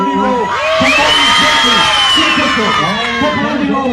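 A crowd at a pepperoni roll eating contest cheers and whoops loudly and steadily, with overlapping shouted voices and rising yells forming a dense, continuous wall of noise.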